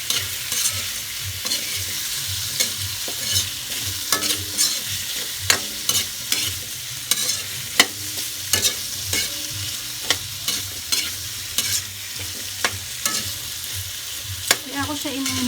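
Carrots and potatoes fry in a pan while a utensil stirs them, with steady sizzling and repeated scraping clicks throughout.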